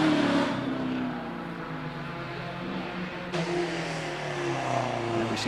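An Audi A4 competition car climbs the Prescott hill climb course, its engine note rising and falling through gear changes at moderate distance, with no voices over it.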